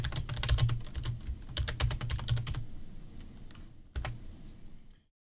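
Typing on a computer keyboard to name a folder, rapid close clicky keystrokes in quick bursts, thinning out toward the end with one last isolated key press before silence.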